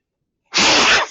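A single loud, close sneeze bursts out sharply after a moment of silence.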